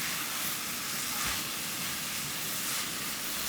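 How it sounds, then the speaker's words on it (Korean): Radish stir-frying in perilla oil in a pan, a steady close sizzling hiss that runs unbroken with no talk. "가을에는 무하고 들기름하고 넣어서 이렇게 국 끓여 먹으면 아주 아침에 구수하니 든든하니 아주 맛있어요."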